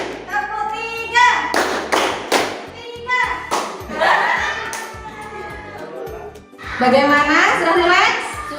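Pupils in a classroom perform a rhythmic clapping exercise, sharp hand claps coming in counted groups with pauses between, alternating with a teacher's spoken count and children's voices.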